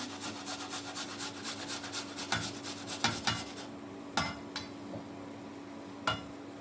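Garlic cloves rubbed against a grater, a rhythmic rasping scrape repeated about twice a second, then slowing into a few separate strokes with clinks.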